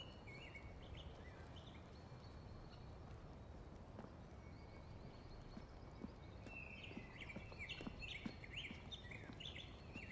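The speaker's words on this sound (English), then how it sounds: "You guys hear the birds chirping?" Birds chirp and tweet at a distance in an outdoor setting, scattered calls growing busier toward the end, over a steady low hiss with faint thuds.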